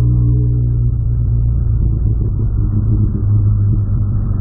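A modified VW Polo engine revs and rumbles steadily up close, a loud, continuous mid-range drone with no talk over it.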